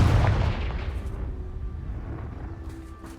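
Confringo blasting spell from Hogwarts Legacy: a heavy, close explosive boom at the start that rumbles and decays over a few seconds, with faint magical shimmer near the end.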